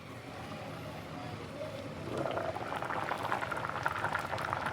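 Vegetables and lentils boiling in a cooking pot outdoors, giving a steady bubbling hiss that grows louder and busier midway, close and continuous with no talking.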